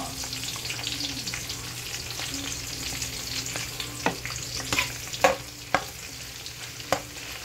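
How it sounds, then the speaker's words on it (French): Thyme, basil and onion fry with smoked fish in oil reused from frying the fish, giving a steady close sizzle with scattered louder pops and stirring scrapes toward the end. "je vais frire le thym, le basil, l'oignon avec notre poisson fumé que je voulais présenter au départ"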